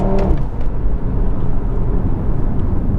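A 400 hp Audi RS3 with its five-cylinder engine drives on Italian mountain passes, producing a steady, loud low engine drone and road rumble throughout, with a brief higher whine early on and no talk.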